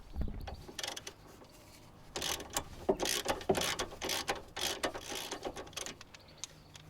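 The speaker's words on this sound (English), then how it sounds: "you undo the nut of the tie rod end and using a 15mm socket" A socket wrench with a 15mm socket ratchets loose the tie rod end nut on a Ford Focus MK2 front suspension, giving repeated rhythmic clicking bursts, close and fairly quiet.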